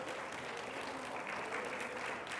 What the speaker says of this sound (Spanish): Un aplauso fuerte al Señor Jesucristo